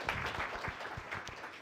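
Brief applause from an audience at a historic preservation awards event, a soft, fairly distant patter of clapping lasting under two seconds.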